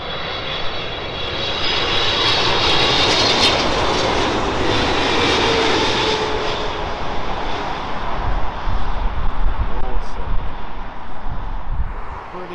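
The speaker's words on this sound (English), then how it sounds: "Qatar from Doha, the Boeing 777-300." Qatar Airways Boeing 777-300 jet engines roaring steadily at Heathrow Airport, a loud broadband rumble with a high whine that holds for about twelve seconds as the airliner passes close by.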